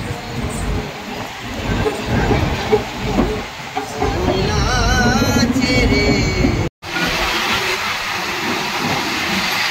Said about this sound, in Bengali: ট্রেনে উঠে পড়েছি, ছেড়েও দিয়েছে ট্রেন।